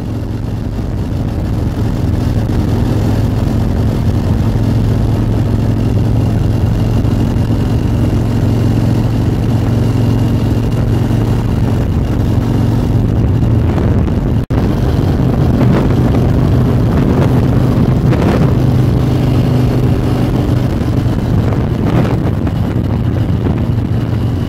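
A motor scooter engine runs steadily and loudly throughout, with a constant low hum and drone mixed with wind buffeting, as if recorded while riding.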